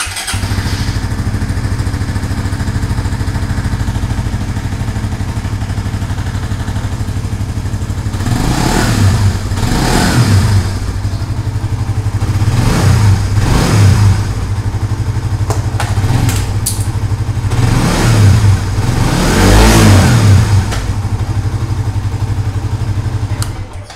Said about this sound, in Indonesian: kita sama-sama mendengarkan suara knalpot standar dari GSX